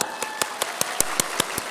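A church congregation on two floors claps in steady unison, about nine sharp, evenly spaced claps at a brisk rhythm, fairly loud and close, with no talking.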